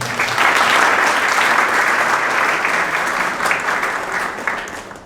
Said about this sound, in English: A good applause for them, all of them.